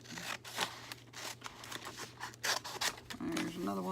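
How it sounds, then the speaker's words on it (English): Scissors snipping paper pictures cut out for a journal, several short crisp cuts close by with a voice speaking softly in between. "I'll cut down just a little bit."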